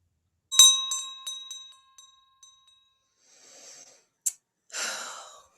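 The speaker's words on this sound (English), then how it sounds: "saved by the shopkeeper's bell at the front door" A shopkeeper's bell at a front door rings with a bright metallic strike, followed by several quick jingles that ring out and fade, then quieter rustling and a sharp knock.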